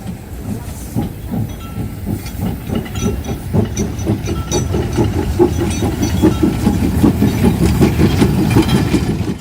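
A fireless steam locomotive rumbles along the rails toward the Semboro sugar factory with a rhythmic chugging clatter and hiss, growing steadily louder as it approaches.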